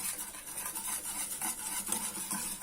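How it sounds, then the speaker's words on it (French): Choux pastry dough is stirred and scraped in a pan, a soft, rhythmic rubbing and scraping repeated steadily at close range with no voices. "Il faut bien mélanger."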